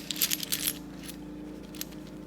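Tarot coins dropped and clinking together in a quick metallic jingle, close and bright, followed by a couple of lighter trailing clinks while a lawnmower hums faintly in the background.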